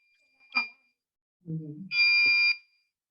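A small electronic buzzer in a children's coding circuit kit sounds in two short tones, a brief beep followed later by a longer steady buzz, near and clear, with a voice briefly between them.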